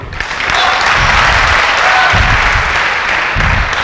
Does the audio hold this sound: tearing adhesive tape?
no